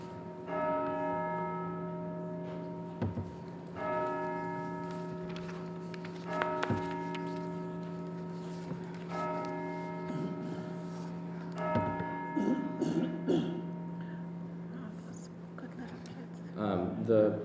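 Church bells ring repeatedly during a county plan commission meeting, several resonant strikes with lingering tones, while people speak and shuffle in the room between and over them.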